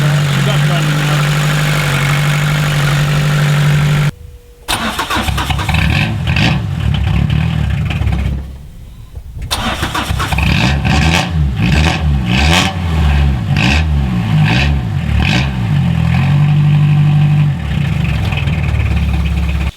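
A 1988 Peugeot 305 DW8 diesel engine clatters at idle and revs up and down, loud and close, dropping out briefly twice before settling into a steady running drone.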